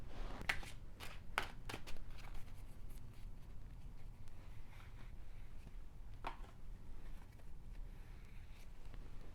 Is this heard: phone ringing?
no